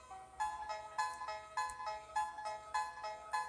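An in-game phone rings in Undertale, a bright electronic chiming tone repeating in quick, even bursts about every half second, clear and alone.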